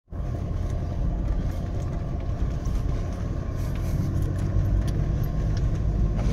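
A 4x4 vehicle driving along a mountain off-road dirt track between Mueang Khong and Doi Sam Muen, a steady close engine rumble with rattling, bumping and crunching underneath, no voices.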